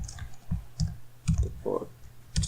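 Several sparse, soft clicks of keys on a computer keyboard, close and quiet, spaced irregularly as a few characters are typed.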